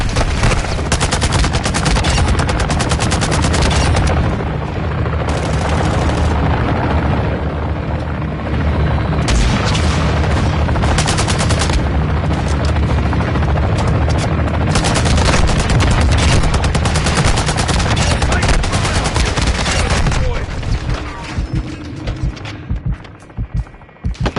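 Sustained loud gunfire in Modern Warfare 2, dense machine-gun bursts and booms rolling almost without pause for over twenty seconds before thinning out near the end.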